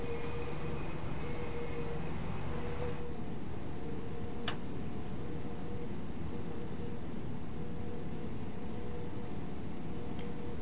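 A Class 377 electric train runs in Train Sim World 2 on the East Coastway near London Road Viaduct, giving a steady, close rumble with a constant motor hum and faint ticking, one brief sharp click midway.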